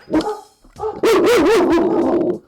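A pet dog barks loudly and close by, a few sharp barks followed by a sustained wavering howl-like yelp, with no talk over it.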